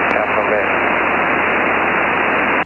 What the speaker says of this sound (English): if you manually break the squelch, you can hear that person's voice through the hiss